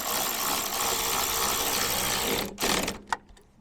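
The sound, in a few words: power tool tightening a 10mm bolt on bumper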